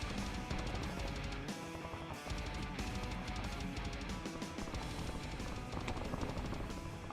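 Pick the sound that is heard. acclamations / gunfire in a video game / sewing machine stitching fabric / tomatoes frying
gunfire in a video game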